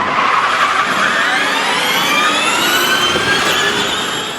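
A Formula E electric race car passes at speed with a loud, continuous high whine and a smoothly falling pitch as it goes by, with no engine roar.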